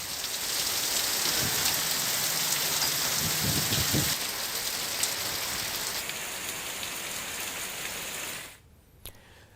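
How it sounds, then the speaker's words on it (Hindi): Pre-monsoon rain falling steadily in Bihar, a dense, loud hiss of rain on surfaces with faint low rumbles, continuing for several seconds before abruptly cutting out near the end. "कई क्षेत्रों में अभी भी प्री मानसून की बारिश भी हो रही है।"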